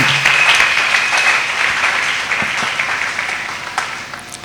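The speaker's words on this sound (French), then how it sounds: "Acclamez encore une fois le Seigneur." A church congregation applauds loudly and continuously, a dense wash of clapping that fades gradually toward the end, with a few scattered voices underneath.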